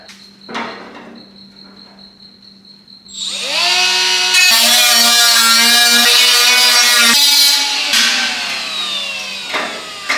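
A power tool cuts a patch panel out of a 1967 Camaro fender. A few knocks come first, then a loud, close, high-pitched whine spins up and holds steady for about six seconds before winding down.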